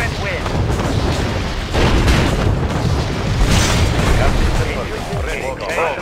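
Missile explosions in the Red Alert 2 video game, heavy continuous booms and rumbling blasts layered over one another, loud and dense, with game unit voices speaking over them.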